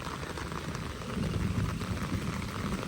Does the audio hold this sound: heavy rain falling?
yes